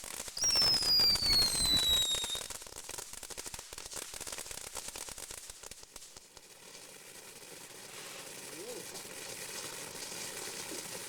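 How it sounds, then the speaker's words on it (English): A big Fourth of July firecracker goes off in a backyard at night with a sharp whistle, then a burst of rapid crackling pops that fades into quiet outdoor background. "It's like a big firecracker,"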